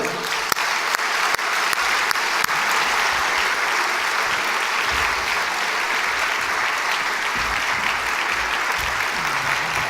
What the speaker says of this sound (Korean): 선교사님 나오실 때 큰 박수로 환영해 주시길 바랍니다